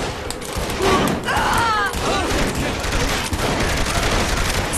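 Rapid gunfire bursts in Saints Row 3, loud crackling automatic shots and a fusillade of pops mixed with whistling and chaotic action noise, continuing throughout.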